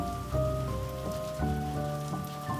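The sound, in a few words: rain falling outside a stable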